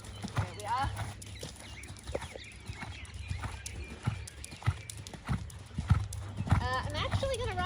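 A horse canters during flatwork riding at home, its hooves landing in a steady rhythmic clip-clop on the ground, close by, with a rider speaking intermittently over the footfalls.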